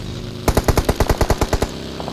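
Automatic gunfire in the mobile battle royale game PUBG Mobile, a loud rapid burst of about a dozen evenly spaced shots over steady game background noise, with no talking.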